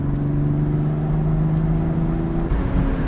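A BMW M240i accelerates uphill through a steep canyon in manual mode, with a steady droning engine tone that holds loudly and then shifts pitch near the end.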